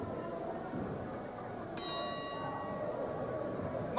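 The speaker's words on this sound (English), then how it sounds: "referee saying ring that bell before Katie Kincaid is ready" A single ring bell clangs at a women's wrestling match, one sharp strike with a lingering metallic ring that fades slowly over crowd murmur.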